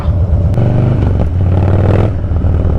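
A loud Harley-Davidson Dyna motorcycle engine rumbles and revs up close, its deep exhaust note rising and falling over a couple of seconds with some mechanical clatter.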